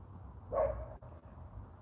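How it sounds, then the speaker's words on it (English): A single faint dog bark, heard from some distance in a quiet room, then near silence. "What's Zeus barking? Oh, the mailman."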